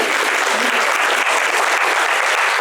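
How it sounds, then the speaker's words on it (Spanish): Church congregation applauding Johan during a sermon, a dense, loud, even wash of many hands clapping continuously and close by, with no breaks. "un aplauso para Johan"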